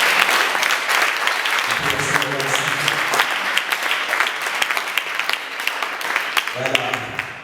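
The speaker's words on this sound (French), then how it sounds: "on va applaudir pour lui" An audience at a student association training session claps for a first vice-president, with dense continuous applause filling the room and a voice speaking over it toward the end.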